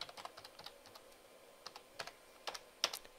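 Soft, quiet clicking of keys on a computer keyboard, irregular bursts of taps with short pauses between them.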